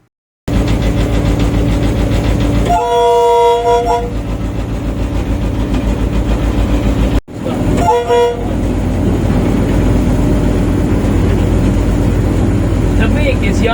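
A Pakistan Railways HGMU-30 locomotive heard from the cab, its engine roaring loud and constant while the horn blows twice, a long blast and then a shorter one.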